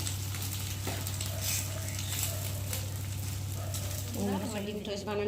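Egg-dipped toast sizzles steadily in a frying pan, a soft continuous crackle under a low hum, with a brief clatter near the end.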